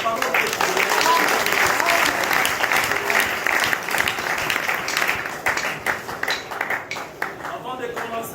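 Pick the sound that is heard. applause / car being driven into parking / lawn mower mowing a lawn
applause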